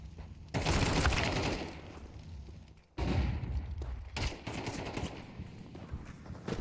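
Rapid pistol gunfire during a Counter-Strike 2 esports match in the RES Regional Series LATAM, with dense overlapping shots and clatter in two loud bursts split by a brief lull.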